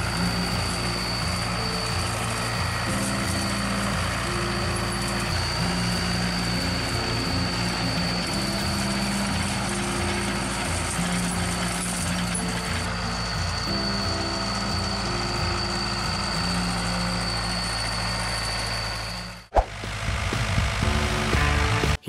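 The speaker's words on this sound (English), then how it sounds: "The resonant sound of the tractor engine," A Fiat 640 tractor engine pulls a rotary harrow with steel tines through field soil, a steady loud droning rumble with a constant whine that shifts slightly in pitch, ending with a brief dip and clatter.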